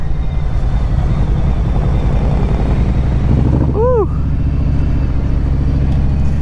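A Harley-Davidson police motorcycle riding over gravel in second gear gives a steady, loud low engine drone throughout, with a brief rising and falling tonal chirp partway through.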